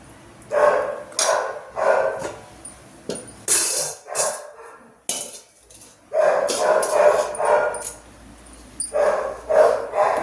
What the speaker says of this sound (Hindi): बस उसको थोड़ी सी आवाज़ चली तो मुझे भी भौंकने लग जाता है